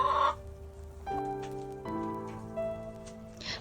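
Chickens cluck softly in a backyard coop during an Oklahoma arctic cold snap, with a few short, faint calls spaced apart and no talking.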